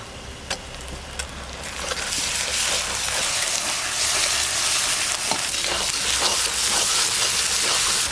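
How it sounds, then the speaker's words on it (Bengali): Ginger and garlic paste fries in a pan: a few sharp clacks of a utensil, then a rising, steady, close sizzle with occasional scraping stirs, and no speech. "এবার আদা আর রসুন বাটা দিয়ে দেবো"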